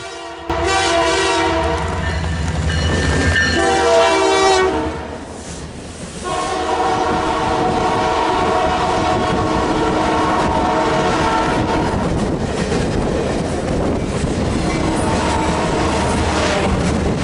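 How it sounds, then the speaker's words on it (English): A loud multi-tone horn blasts twice, then the Canadian Pacific Holiday Train roars past close by at night in Chicagoland, with continuous rumbling and rattling wheels. "The holiday train then comes screaming through at approximately 10:30 p.m."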